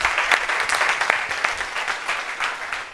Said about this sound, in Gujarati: વાહ, તાળીઓ થઈ જાય.